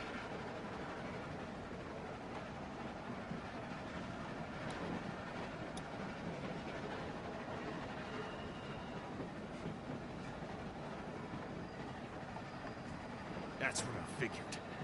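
A train in The Walking Dead video game rolls on rails with a continuous low rumble and rattle, steady throughout, with a brief metallic clank near the end and voices talking over it.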